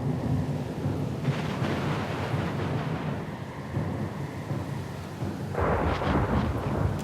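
A thunderstorm at sea in Pillars of Eternity II rumbles with a steady roar of rain and wind, deep thunder rolling through and a fresh crack near the end, with no voices.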